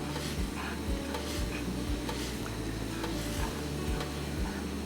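Two cups of shredded cheese being stirred into warm milk for a cheddar broccoli chicken casserole, a steady wet scraping and swishing with rhythmic strokes, close up over a constant low hum.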